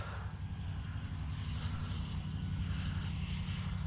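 Steady droning buzz of an RC glider's electric motor, a Tower Hobbies ASW 28, running at about half to three-quarter throttle just after launch, continuous and fairly even with no talk over it.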